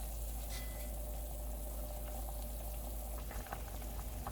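Radish soup with rice-flour dumplings boiling hard in a covered pot, a steady close bubbling rumble with a constant low hiss and occasional small pops, no voices.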